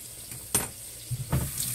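Chicken pieces fry in hot grease for old-fashioned fried chicken, a soft steady sizzle with two sharper crackling bursts, close up and without speech.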